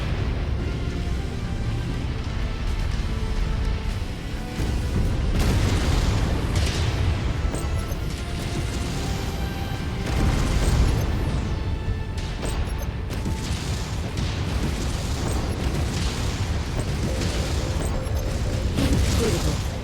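Incoming missile explosions in the video game Mechwarrior 5, repeated heavy booms and bursts with mechanical clanks in dense succession, loud and continuous with short gaps.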